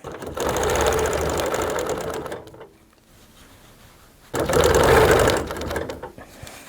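A large sewing machine stitching rows on a quilt, running in a steady loud whir for about two and a half seconds, pausing to a quiet lull, then whirring again for another stretch.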